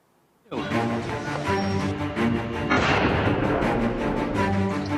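A large blast from a 16-kilogram bomb dropped on enemy positions, a sudden loud boom followed by sustained rumbling and crackling debris that swells again midway.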